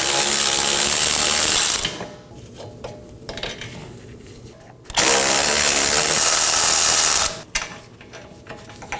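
A ratchet spins off the 18mm wheel bearing and hub bolts on a Chevrolet Equinox rear knuckle, making two loud, close, fast clicking runs of a few seconds each, with short clanks and pauses between them.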